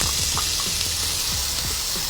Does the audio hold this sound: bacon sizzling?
yes